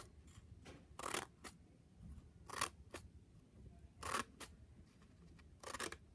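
Scissors snip through paper flaps of a fraction flipbook in short, crisp cuts, about five distinct snips spaced a second or so apart, close and quiet with no talking.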